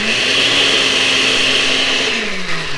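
A kitchen blender pulses a keto peanut butter chia seed pudding, its motor whirring loud and steady with a high whine for a few seconds before winding down near the end.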